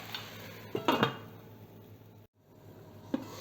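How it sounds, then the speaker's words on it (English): A lid goes onto a pot of mango chutney with a short cluster of metallic clinks and rattles, followed later by one faint tap against a quiet kitchen background. "I'm just going to put the lid on it and allow it to cook on a very low flame for 5 minutes"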